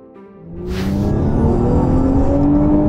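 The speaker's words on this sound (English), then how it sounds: "We're going to race Tesla versus Audi S5." A car accelerates hard in a street race between a Tesla and an Audi S5, a loud engine roar rising steadily in pitch as it builds speed, close by and with no talk over it.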